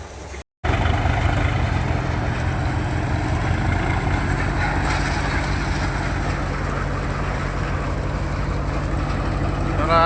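A tractor engine idles with a steady low rumble and constant drone, loud and close, after a brief cut near the start.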